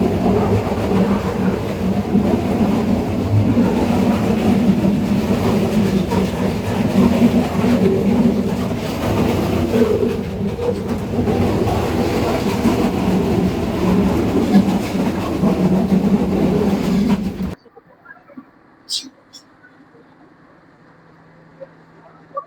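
The Kalni Express passenger train travelling from Dhaka to Sylhet in Bangladesh runs loudly on the rails, a continuous rumbling clatter heard from on board that suddenly drops to near quiet, leaving only a few faint scattered sounds.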